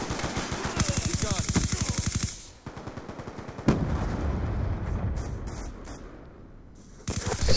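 Video game gunfire in Call of Duty: Black Ops 2, with dense automatic bursts rattling near and loud, a lull carrying scattered shots and a sharp impact, then another heavy burst at the end.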